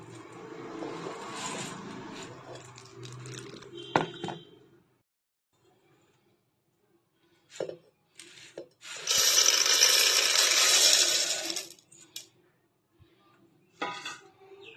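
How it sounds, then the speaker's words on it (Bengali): Spices being ground in a kitchen mixer grinder, salt and sugar added, for a vegetarian dhokar dalna: a loud, dense whirring burst around the middle, with shorter rattling runs before and after, separated by quiet gaps. "এটাকে আমি মিক্সার গ্রাইন্ডারে দিয়ে দিচ্ছি"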